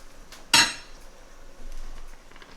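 A single sharp metallic clank as a lid is set onto a pot of lamb cooking on low heat, close and brief, then quiet kitchen background with no talking.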